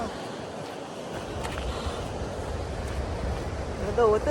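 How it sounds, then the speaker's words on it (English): High ocean waves crashing below the Hermanus cliff path: a continuous broad roar of surf with wind buffeting the microphone, fairly distant and steady, with a brief voice near the end. "And the waves are so high."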